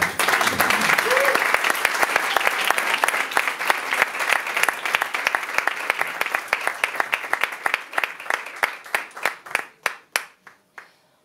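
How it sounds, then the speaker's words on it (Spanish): An audience applauds loudly and steadily, the clapping thinning out into a few scattered, separate claps before fading to silence. "Un aplauso para..."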